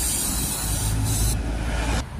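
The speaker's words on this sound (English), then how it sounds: "we'll just give that a little bit of a spray up, some brake cleaner" A short burst of brake cleaner aerosol spray hisses loudly and close up for about two seconds, then cuts off.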